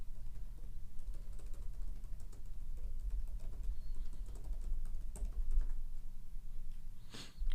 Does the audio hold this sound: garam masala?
no